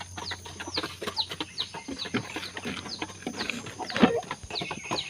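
Clucking from an Asil broodhen, a six-month-old purebred hen, with repeated short calls over steady farmyard background noise and no talk.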